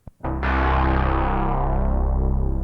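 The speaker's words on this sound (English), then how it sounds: "Let's go for a bit of mild distortion." An Arturia synth note sounds through a mild distortion effect after a short click, a sustained, buzzy, gritty tone that holds steady and slowly fades, with a faint wavering pulse running through it.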